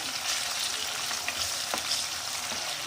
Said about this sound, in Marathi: आणि सोबतच टोमॅटो टाकूया आणि यांना छान परतून घेऊया